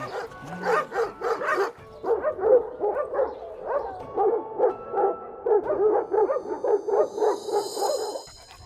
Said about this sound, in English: Most of the dogs have trauma here